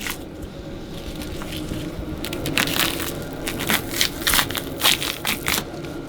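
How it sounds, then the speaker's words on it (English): Silver skin peeled by hand from a deer back strap, making soft wet crackling and squishing tears that grow denser toward the end, close and moderately quiet, with no voice. "you got this layer of silver skin that you just peel off by hand"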